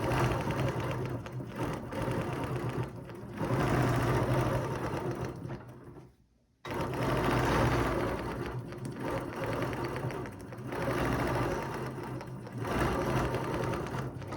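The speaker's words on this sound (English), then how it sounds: "I'm just going to do a couple locking stitches and lift my thread and my foot up there" A sewing machine stitches during ruler quilting with a Zippy ruler, a loud, steady mechanical whir close by, cut by one brief pause midway before it runs on.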